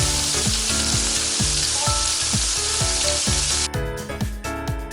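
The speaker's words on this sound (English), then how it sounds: "Sauté the cut onions and garlic in a pan until they are lightly brown." Onions and garlic sauté in a pan with a steady, dense sizzle, backed by a regular thumping musical beat; the sizzle drops away abruptly near the end.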